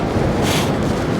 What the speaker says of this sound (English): Oh, it's chilly. That wind cuts right to the bone.